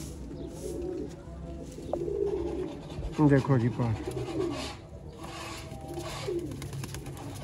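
Ferozpuri pigeons coo in a loft, soft repeated rolling calls rising near the middle of the clip while someone talks over them.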